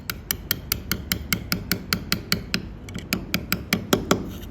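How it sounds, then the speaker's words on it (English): Steel chisel struck by a mallet again and again, driven into the corner of a letter being cut in stone: about twenty sharp, evenly spaced ringing taps, close and clear, with no voices. "You drive your chisel into the corner."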